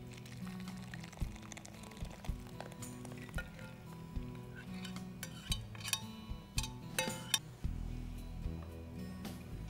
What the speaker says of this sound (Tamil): சேர்த்துட்டு நல்லா கலக்கிக்கோங்க